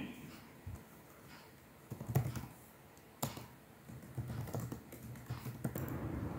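Fast, uneven tapping of a computer keyboard while text is typed into a presentation slide, light clicks that grow busier and denser toward the end.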